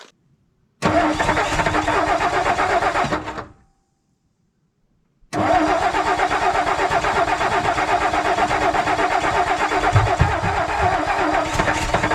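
A Ford F600 truck engine set on choke cranks and catches, then cuts out. After a short silence it starts again and settles into a loud, rough, close idle that runs on steadily.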